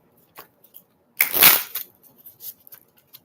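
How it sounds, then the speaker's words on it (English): A quick riffle of tarot cards shuffling, one brief papery burst surrounded by soft scattered taps and flicks, close and quiet. "as I'm shuffling the cards"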